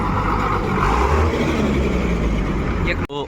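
Idling and moving MSRTC state transport buses at Latur bus stand number 2, a steady close engine rumble with passing vehicle noise throughout, a brief sharp clatter near the end, and people talking underneath.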